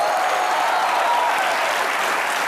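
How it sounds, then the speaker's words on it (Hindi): A studio audience on a comedy show breaks into brief, steady applause, a dense clapping roar with a faint tonal hum underneath. "इसके लिए जोरदार तालियां।"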